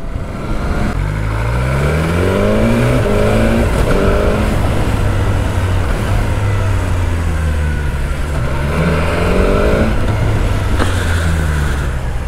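A BMW S1000R motorcycle engine on a test ride, loud and close throughout, with rising and falling revs as the bike accelerates and shifts, a steady roaring drone with no voices.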